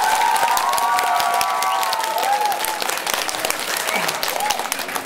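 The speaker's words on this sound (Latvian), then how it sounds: "Aplausi!" Audience at a school tenth-grade initiation evening applauding, a loud sustained burst of clapping mixed with some cheering and voices.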